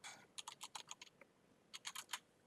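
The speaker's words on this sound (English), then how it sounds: "So the current price, if I can type," Short bursts of computer keyboard typing, quiet and close, with a few quick keystrokes, a brief pause, then another cluster of taps; no voices.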